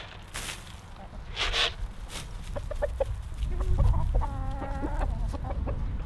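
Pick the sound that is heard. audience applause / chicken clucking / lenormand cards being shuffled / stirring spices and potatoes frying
chicken clucking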